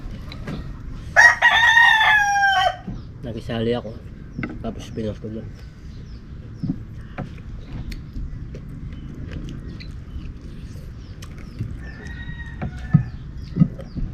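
A rooster crows once loudly and close early on among a group of chickens, followed by soft clucking and scattered farmyard sounds while someone talks intermittently.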